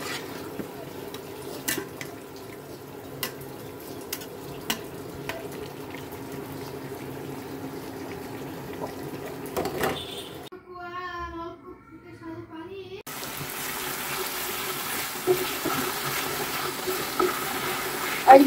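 Puti fish curry with radish and potato cooking in a pan, giving a steady close bubbling and simmering hiss that runs throughout, broken by a short quieter stretch midway.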